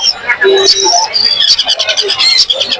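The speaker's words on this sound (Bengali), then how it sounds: "দেখুন দর্শক কত সুন্দর পাখিগুলা।" Caged birds at the Tongi bird market, including cockatiels and conures, fill the air with dense overlapping chirps, squawks and whistles, loud and close, with a person talking among them.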